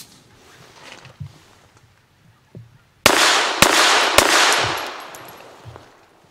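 Several close, loud gunshots from a Llama Micromax .380 1911-style pistol firing 94 grain rounds, sharp broadband cracks in quick succession with ringing decay, after a quieter stretch of handling noise.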